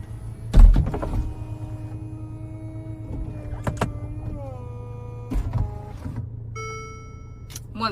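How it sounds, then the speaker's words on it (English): Electric motor of a Mercedes SLC convertible roof working through its cycle, a steady low hum broken by several sharp clunks and latch clicks, close and clear inside the car. "this is where we control the convertible roof"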